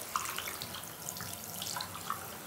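Tap water runs steadily into a sink for a pet bird's daily bath, a faint continuous splashing stream with small drips and plinks over it, heard alone without talk.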